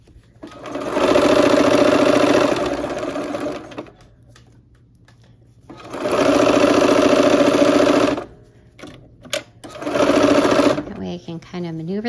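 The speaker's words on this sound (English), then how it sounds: "we'll go ahead and sew this next seam" Sewing machine stitching a quilt seam for a dino star quilt, running in two long bursts and a shorter third with a steady mechanical whir, stopping between runs as pins are reached; faint handling noises fill the gaps.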